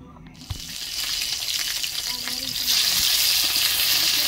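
Marinated fish frying in a hot pan, a steady close sizzle that grows louder and denser partway through, with a few light knocks and clinks of a utensil.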